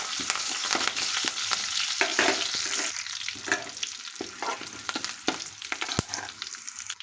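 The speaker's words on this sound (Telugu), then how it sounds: "ఇప్పుడు కొద్దిగా కరివేపాకు వేసి ఒకసారి ఫ్రై చేయాలి" Curry leaves and cumin fry in hot oil, a steady crackling sizzle broken by the clicks and scrapes of stirring in the pan, close by with no voices.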